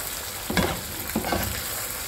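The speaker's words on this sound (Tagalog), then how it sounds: "So, ihalo na natin yung ginisa natin chicken kanina." Sautéed chicken stirred into a creamy mushroom sauce in a pan, a constant close bubbling sizzle broken by a couple of scraping stirs of a utensil.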